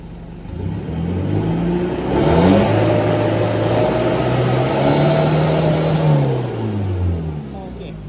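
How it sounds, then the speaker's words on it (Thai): An Isuzu All-New D-Max pickup engine revs hard with the accelerator held floored, fitted with an electric throttle controller. The engine note climbs and falls in loud, sustained sweeps for about eight seconds. "เดี๋ยวพี่จะตั้งรอบสักสี่พันก่อนเหยียบมิดเลย"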